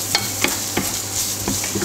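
Chopped onion and carrot frying over medium heat in a pan, a steady sizzle with several brief scrapes or stirs spaced through it, close and fairly loud with no talking.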